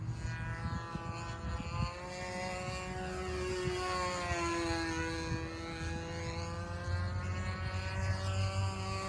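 A radio-controlled Force model airplane with a Tiger Shark engine flies overhead, its high, buzzing engine drone rising and falling in pitch as it passes and loops, steady and fairly close.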